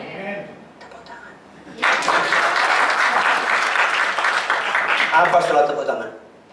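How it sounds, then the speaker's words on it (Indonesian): A church congregation breaks into loud, sustained applause that swells suddenly and then fades out, with a preacher's voice audible before and around it. "Tepuk tangan."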